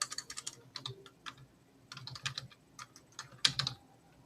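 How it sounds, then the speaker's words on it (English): Rapid typing on a laptop keyboard, close and clear, with bursts of key clicks in uneven rhythm, short pauses between runs and a louder clatter near the end. "I'm typing with the laptop keyboard instead of my desktop one."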